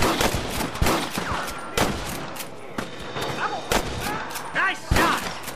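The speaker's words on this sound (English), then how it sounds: "Rush the guard! Gun him down!" Red Dead Redemption gunfire crackles in a video game battle as several loud, close shots go off in irregular bursts, with game characters shouting between them.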